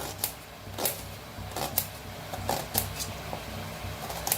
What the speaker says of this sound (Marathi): तर दोन्ही कांदा कापून घेऊया.